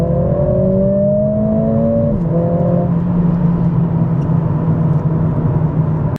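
A loud Mercedes-AMG CLA45 S engine in race mode roars and revs, pitch climbing then dropping as it shifts, followed by a steady deep exhaust drone that cuts off abruptly.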